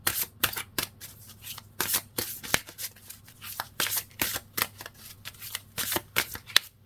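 Tarot cards are shuffled and drawn in a quick, close series of crisp riffling snaps and slides, steady rhythmic flicks with no talking over them.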